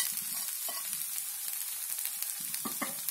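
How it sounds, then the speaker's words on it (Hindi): Samosa stuffing cooking in a pan over a low flame gives a steady, bright sizzle throughout, with a few soft stirring knocks and scrapes near the end. "इन सबको अच्छे से मिला लेंगे और धीमी आंच पर इसको थोड़ी देर के लिए पकने देंगे।"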